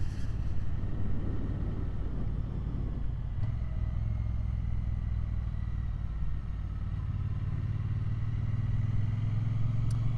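Triumph Bonneville T120 motorcycle riding along a road near Grange-over-Sands, a steady low engine drone with wind rumble running continuously, close and moderately loud throughout.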